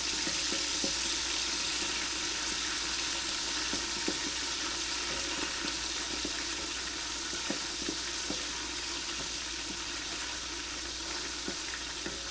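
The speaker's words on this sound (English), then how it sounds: "Now the garlic and the hot sauce has been cooking in the oil" Garlic and Frank's hot sauce sizzle in hot oil, a steady close crackle with scattered sharper pops and the occasional scrape of stirring, no voices.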